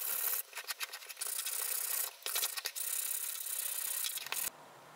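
Sandpaper scrubs the etched surface of a steel tool blade in short, close, raspy strokes with brief pauses between passes, then stops, leaving quiet room tone.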